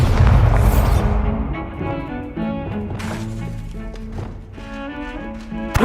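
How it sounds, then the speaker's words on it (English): A Bombarda blasting spell in Hogwarts Legacy goes off in a heavy boom and crashing debris, followed by a ringing, layered game score and further sharp impacts near the end. "Bombarda."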